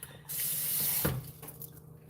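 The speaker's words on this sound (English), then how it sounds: "all we really have to do is add just a smidge of water" Water runs from a kitchen tap into a cooking pot for about a second as a small amount is added for a hamburger wild rice hotdish. The flow is close and moderately loud, then ends and the room goes quiet.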